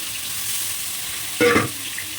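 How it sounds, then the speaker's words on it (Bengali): Potato, soybean and pointed gourd fry in oil seasoned with cumin, giving a soft, steady sizzle close by, with a brief louder clink of stirring midway; no one speaks. "এখন ভালো করে ভেজে নিচ্ছি আলু সয়াবিন আর পটলটা"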